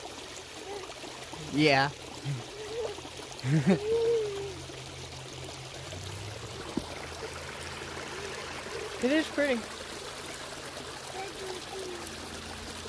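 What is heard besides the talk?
flowing water of a stream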